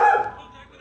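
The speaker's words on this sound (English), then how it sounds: "my dog is barking in at nothing outside" A dog barks once outside, a short sharp bark that fades quickly, heard through the walls of a room.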